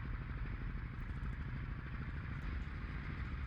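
A simulated FW-190 radial piston engine in Flight Simulator 2020, held at 2700 RPM for takeoff, gives a loud, steady, dense mechanical roar with rough low-end throb and no pauses.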